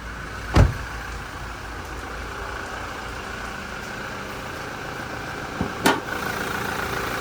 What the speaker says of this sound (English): Just that diesel motor ticking over nicely.